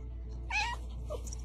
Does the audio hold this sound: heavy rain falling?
no